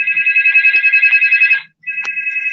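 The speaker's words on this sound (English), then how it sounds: "And the phone is ringing like I don't know what." A phone rings loudly and close by with a rapid warbling electronic tone, one long ring, a brief break, then it starts ringing again.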